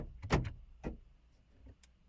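Two quick mechanical clunks of the central door locks in a 2015 Dacia Sandero 1.2, close by, a short pause between them, then a faint click near the end in the quiet car interior.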